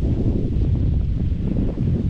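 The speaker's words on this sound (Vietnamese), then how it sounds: "Đấy, gió bây giờ cũng rất là mạnh nha mấy bạn các bạn nghe thử xem" Strong wind buffets a GoPro Hero 10 microphone outdoors, a loud continuous low rumble and roar that swamps everything else.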